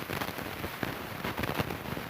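Explosion debris sound effect for a war scene: a steady, dense crackle and patter of falling fragments with scattered sharper pops, evenly loud throughout and with no voices.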